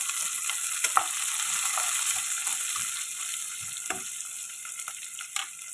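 Half a medium onion, cut into small pieces, fries in oil with mustard seeds, cumin and fenugreek. A soft steady hiss runs throughout, broken by occasional spatula scrapes and small pops.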